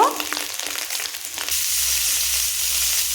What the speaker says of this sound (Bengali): এরপর ভেজে নেব আমি ফুলকপি আর আলু